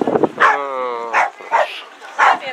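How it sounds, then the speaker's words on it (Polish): Dogs barking in bursts while at play on a walk to Hala Izerska in the Polish mountains, several separate woofs and yips over about two and a half seconds, fairly close, with a drawn-out whine between barks. "I psy rozgrywają rozgrywkę."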